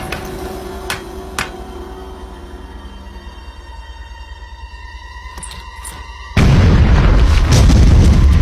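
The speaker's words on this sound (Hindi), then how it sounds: "उड़ा दो इस चट्टान को" A blast set off to blow up a rock begins as a sudden, loud broadband roar around six seconds in and sustains to the end. Before it comes a quieter stretch of tones and faint thumps.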